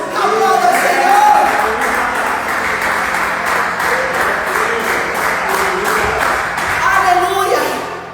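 Church congregation clapping and applauding during a worship service, a dense sustained wash of hands for several seconds, loud and close, with voices mixed in underneath.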